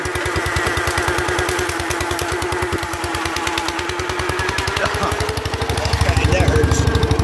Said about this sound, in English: Don't stall out, tractor.